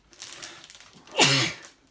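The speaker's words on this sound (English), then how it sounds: "I'm going to sneeze." A single sharp sneeze bursts out loud and close near the middle, a breathy build-up giving way to a bright explosive release that trails off quickly into quiet.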